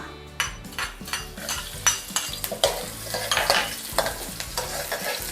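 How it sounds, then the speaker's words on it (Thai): Minced garlic frying in a couple of spoonfuls of vegetable oil over medium heat, a steady close sizzle broken by repeated scraping stirs of a utensil against the pan. "เดี๋ยวเราจะเจียวให้กระเทียมหอมก่อนนะคะ"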